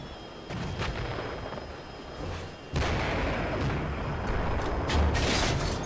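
A tank main gun fires in the Steel Beasts Pro simulator, a sudden heavy report that cuts in sharply mid-clip over steady engine and battlefield rumble, followed by a few lighter bursts.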